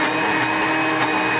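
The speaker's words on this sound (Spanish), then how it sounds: "De que los muele, nos muele esta licuadora." A steady, loud motorized whir runs throughout, like a blender grinding at full speed, with no pauses or talking.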